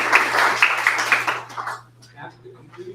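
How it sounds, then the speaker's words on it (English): Applause from an audience at a museum program, a brief burst of clapping that fades out within about two seconds, leaving faint room noise and a low hum. "please give him a round of applause"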